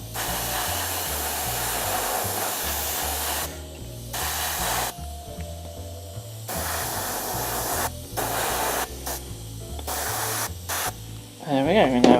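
Airbrush or spray can hissing steadily as a purple base coat goes onto Halo Covenant Ghost miniatures, a continuous loud spray broken by short pauses, with no talking.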